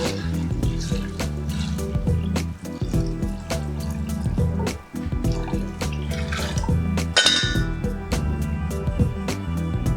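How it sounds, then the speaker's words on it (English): Vegetable broth is poured into a pot of Thai-style spicy pumpkin soup, making a steady liquid splashing and trickling that runs for the whole stretch, close up and fairly loud, with a few clunks from the pot. "And then I will add vegetable broth, 6 cups."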